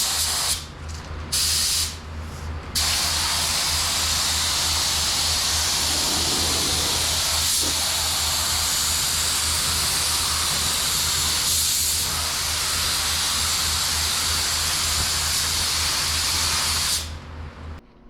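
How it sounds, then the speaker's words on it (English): Clear coat is spray-painted onto a Mazda lowrider truck, a loud, close, continuous spray-gun hiss that runs for long stretches with a few brief pauses near the start and a stop at the end. "Now a couple coats of clear coat."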